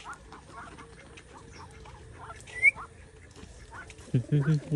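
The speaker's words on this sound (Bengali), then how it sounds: "হাঁসগুলা প্রচুর জ্বালায় আপনার" Domestic ducks in a village yard quack in short, close bursts that recur over the clip, with voices talking in the background.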